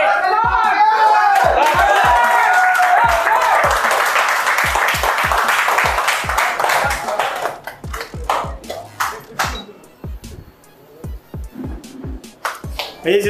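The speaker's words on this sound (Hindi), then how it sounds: "ताली बजा दो भाई" An audience at a CPU repair competition for student trainees claps, with sharp, irregular claps that are loud and continuous at first, then thin into scattered claps, while people talk.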